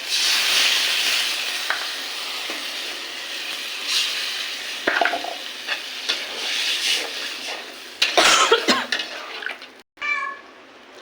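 Water hits hot cooked-down spice paste for a biuli dal bora curry, setting off a loud, close sizzle that fades and flares, with stirring scrapes and a sharp clatter near the end.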